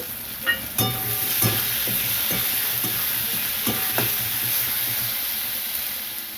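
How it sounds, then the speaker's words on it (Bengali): Tomato and chopped onion fry in a pan for a cabbage dish with small tangra fish, giving a loud, steady hiss at close range. A spatula knocks against the pan a few times over the continuous sizzle. "টমেটোটা দিয়ে দিলাম এবার এটাকে ফ্রাই করে নেব"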